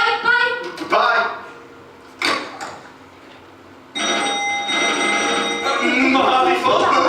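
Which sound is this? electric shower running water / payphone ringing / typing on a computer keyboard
payphone ringing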